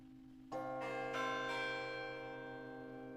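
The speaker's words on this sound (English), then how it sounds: "The complete bell tower." Church bell tower peals sampled in a Christmas song: several bell strikes enter one after another, each ringing on with long overlapping decay, clear and sustained.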